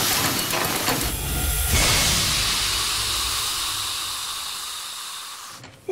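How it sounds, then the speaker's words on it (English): Pressurized steam hisses loudly from a cartoon washing contraption in one long spurt that starts strong and slowly fades, with a short burst of puffing in the first seconds. "Here, you control the pressurized steam by letting out a few spurts once"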